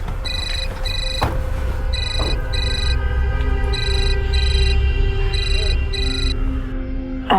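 A telephone rings in repeated double bursts of bright electronic tones, steady and fairly loud over a low background hum.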